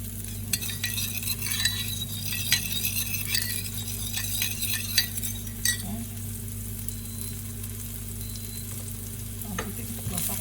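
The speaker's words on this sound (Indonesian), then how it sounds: "jadi kita harus aduk-aduk ya" Sugar dissolved in a little water is stirred in a pan, giving light scraping and occasional clinks of a utensil against metal over a soft, steady background hiss.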